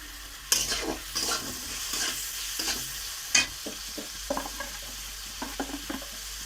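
Onion and tomato fry with salt in a pan after bay leaf, giving a low crackling sizzle under intermittent scraping and clattering stirs from a spatula, close by and without talk.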